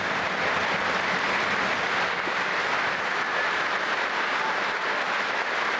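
Loud sustained applause from a large audience giving a standing ovation during a formal speech and signing ceremony, a continuous dense roar of clapping that holds steady throughout.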